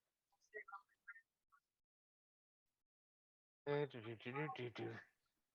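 A phone's message notification tone, a short run of bright chiming blips, then a loud, harmonically rich jingle of several quick notes a few seconds later, close and clear.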